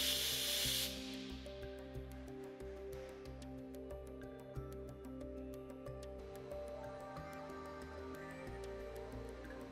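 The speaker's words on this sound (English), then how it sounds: "Remove possible pollutants from the oxygen cylinder valve outlet by shortly opening and closing the valve." A brief burst of gas hissing from an oxygen cylinder valve opened and quickly shut at an oxyfuel cutting torch setup, loud at first and cut off within a second, then a steady tonal hum with faint ticking.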